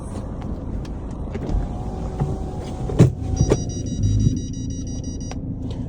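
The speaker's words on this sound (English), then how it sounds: "here's the car driving" A 2012 Mercedes-Benz C250 with a 2.2-litre diesel engine drives along, a low steady engine rumble heard from inside, with a few clunks and thumps and a faint whine near the end.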